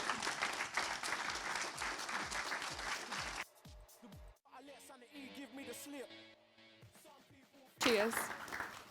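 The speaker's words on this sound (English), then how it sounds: "give her a massive round of applause" An audience at a mental-health conference breaks into loud clapping, which cuts off as a voice speaks through a microphone, then a second burst of applause rises near the end.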